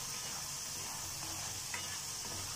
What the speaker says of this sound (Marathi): असं गोल्डन कलर येईल तोपर्यंत आपण त्याला फ्राय करत राहायचं.